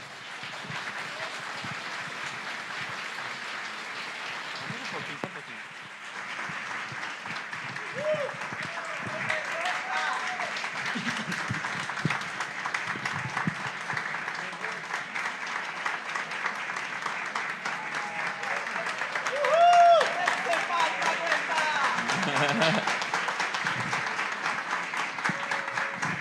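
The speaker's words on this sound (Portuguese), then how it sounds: "Vamos aplaudir o padre." An audience applauds Padre José Eduardo after his talk, a long, even wash of clapping from a large room that swells near the end while voices speak over it.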